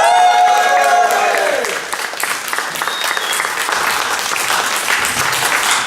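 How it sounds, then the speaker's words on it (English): A comedy-club audience applauds a comedian, a loud dense burst of clapping that overlaps a fading musical sting at the start, then carries on at a steady level before tailing off slightly. "Thank you, Norma, for giving me clap."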